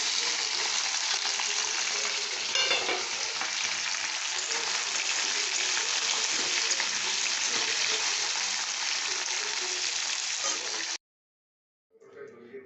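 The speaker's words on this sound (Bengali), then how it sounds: "এবার শুটকি মাছটাকে ভেজে নামিয়ে নেব।" Dried fish, shutki, fries in hot oil with a loud, dense, continuous sizzle and crackle that runs unbroken for a long stretch, then cuts off abruptly before a brief return of faint sound.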